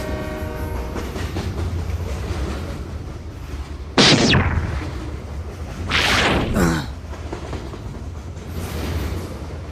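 Anime sound effect of a train rumbling along the rails in Dragon Ball Super, Hindi dub: a continuous heavy rolling drone broken by two sharp, loud horn-like blasts.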